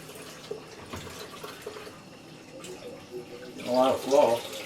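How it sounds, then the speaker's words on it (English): Water running from a newly installed shower valve in a 32 by 48 inch shower stall: a soft, steady rush of spray, fairly quiet, with some faint background noise and splashing growing louder toward the end. "A lot of flow. Water's getting hot."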